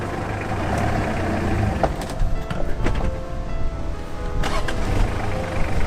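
A 4x4 stuck in sand at dusk, its engine roaring steadily under load as the driver tries to pull free, a loud, continuous rumble mixed with wind and a few faint knocks.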